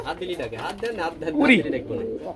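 Bombay pigeons coo up close, deep throaty warbling calls that rise and fall over a couple of seconds.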